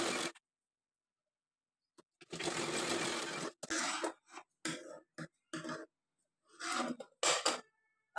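A sewing machine stitching dress fabric runs in close bursts, one long steady run followed by several short stop-start spurts, each clear and near with silence between.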